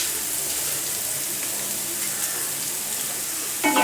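Onions salted and sautéing in a pan for spicy chilli chicken, a steady close sizzle holding evenly throughout, with a brief stirring clatter near the end.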